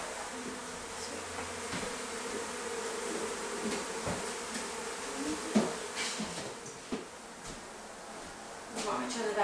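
A steady, close hum of many bees buzzing during a hive removal in Oakland, with occasional clicks and handling knocks as brood frames are moved.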